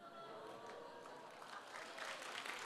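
Congregation applauding at a family church worship service, a steady broad patter of many hands clapping throughout, growing slightly louder toward the end with no voices over it.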